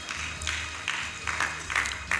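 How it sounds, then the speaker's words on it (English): Applause from a conference audience at Veritas University in Abuja, a steady wash of many hands clapping at moderate distance, lasting through the whole stretch with slight swells. "A round of applause for Professor Corey"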